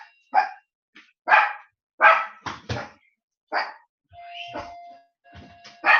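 A dog barks in short, sharp bursts, about eight yaps spaced irregularly across several seconds, fairly close and loud, with brief quiet gaps and a faint tone in between.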